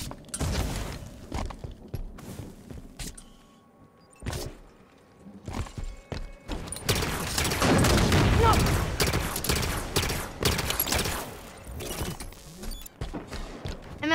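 Gunfire from a bolt shot weapon in Halo 5 multiplayer: sharp, repeated bursts of shots, sparse at first and then a dense, louder flurry mid-clip, with a voice talking at times.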